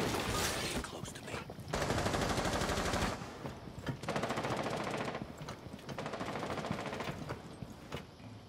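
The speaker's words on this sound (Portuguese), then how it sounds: "Tá me atirando, tá me atirando." Bursts of automatic gunfire in the Rainbow Six video game, fired at the player in three long rapid strings separated by short pauses, loud and close, with voices talking faintly underneath.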